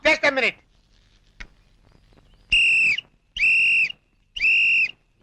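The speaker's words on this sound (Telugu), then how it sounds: "ఏంట్రా విజిల్ కొడుతున్నావు" Three loud, sustained whistle blasts of about a second each, evenly spaced, following a brief voice and a sharp click.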